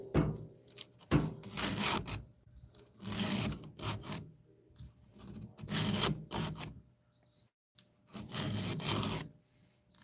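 A hand file rasps in rhythmic strokes across saw teeth, sharpening the points and cutting out the gullet, each pass a gritty scrape followed by a brief pause, close and distinct with no talking.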